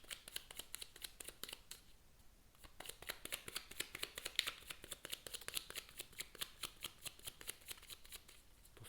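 Oracle cards are shuffled quietly by hand in a run of soft, rapid riffling flicks and slides, with brief pauses between bursts and no one speaking.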